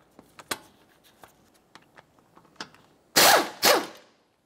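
Ratchet loosening the brake caliper bracket bolts on a 2001-2005 Ford Explorer Sport Trac, soft scattered clicks followed by two loud close bursts of quick ratcheting at the end, no speech.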